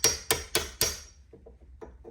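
A steel chisel is tapped with a hammer to drive out a bracket while installing long-travel suspension on a first-generation Toyota Tundra, giving four sharp, ringing metallic strikes in even rhythm, close and loud, followed by fainter clinks.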